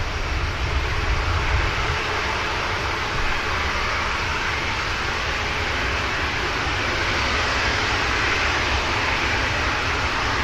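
An EasyJet airliner on final approach at Manchester Airport, a loud, steady broadband jet engine roar held at constant level throughout.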